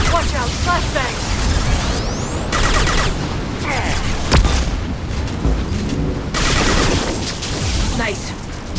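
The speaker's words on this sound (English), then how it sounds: "Watch out, flashbangs!" Flashbang explosions and combat noise in Mass Effect 2, with dense bursts and booms over a busy, loud mix of gunfire and effects, and voices talking over the action.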